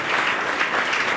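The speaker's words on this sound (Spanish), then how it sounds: "con un fuerte aplauso" Loud, steady applause from a church congregation during a Spanish-language worship service, a dense, even wash of clapping that holds throughout the short stretch.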